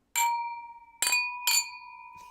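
Glasses clink in a Viennese toast: three bright, ringing chinks with long sustained tones, each striking cleanly and decaying slowly, with no voices over them.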